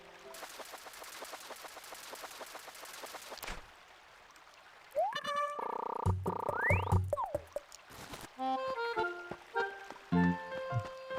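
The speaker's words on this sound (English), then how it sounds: "I hear another frog." In the video game Animal Crossing: New Leaf, a frog croaks in short repeated pulses over soft ambient game sound, followed by bright chiming game tones and musical blips.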